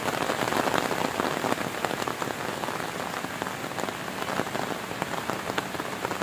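A downpour at Batu Layar beach makes a dense, loud hiss with crisp individual drop impacts scattered through it, steady and nearby, no one speaking.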